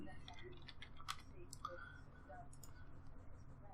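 A computer keyboard clatters with a quick run of close key taps, light clicks scattered over a faint background hum.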